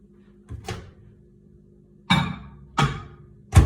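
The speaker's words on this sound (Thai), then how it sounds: "ไมโครเวฟเลยจ้ะ" A microwave oven door in a home kitchen, used while making a sweet coconut-milk black bean dessert: four sharp clunks of opening and latching shut over a low steady hum.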